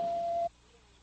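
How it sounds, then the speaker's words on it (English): An answering machine sounds one steady electronic tone for about half a second after its recorded greeting, then cuts off into quiet line hiss. "at the sound of the tone, you can leave your name, the time you called, your phone number, and any message"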